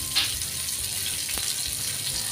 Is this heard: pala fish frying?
yes